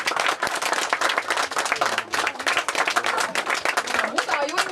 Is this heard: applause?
yes